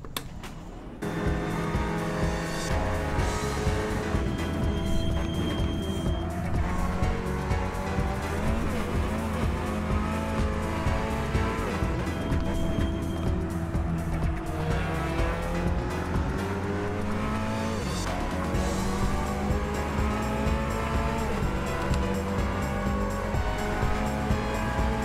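Race car engine from a racing video game, revving steadily with shifting pitch through gear changes and corners, loud and continuous for the whole stretch with occasional tire squeal.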